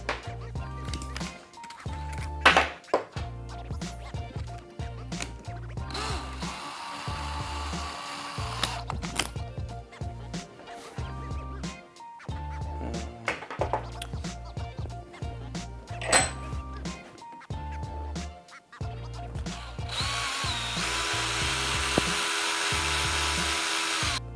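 A drill runs in repeated short bursts while drilling a hole to be tapped in a contact cement glue pot, whining up and stopping, with clicks and handling noise between, then a longer steady run at the end.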